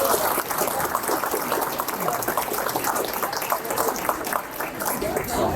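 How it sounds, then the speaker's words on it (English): A room of attendees at a sheriff's Asian advisory council event clapping for sponsors, a steady wash of applause lasting several seconds at moderate level, with no other sound standing out. "Let's please give them a round of applause."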